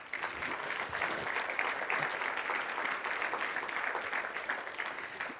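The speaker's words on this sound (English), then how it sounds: "let's give them another round of applause" A crowd of family and friends at a high school softball signing ceremony gives a sustained round of applause, many hands clapping steadily and evenly at moderate level from a short distance, with no talking over it.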